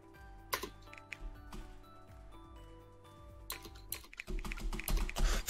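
A computer keyboard clicks in quick, irregular taps during an online Pummel Party game session, with clicks scattered over a steady hum and denser, louder noise near the end.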